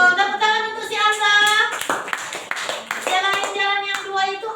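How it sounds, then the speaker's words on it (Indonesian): Children in an Indonesian primary classroom clapping together during a coding and computational thinking lesson, a burst of applause that fades as young voices chatter and the teacher talks over it. "Tepuk tangan untuk si Asa"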